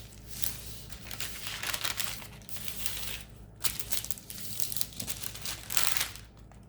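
Parchment paper crinkling and crumpling as it is folded over pressed flowers, a close, continuous papery rustle in several bursts with brief pauses between.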